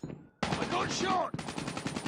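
Bursts of rapid automatic gunfire in a first-person video game shooter, loud and close, broken by a brief gap, with a voice shouting over the shots.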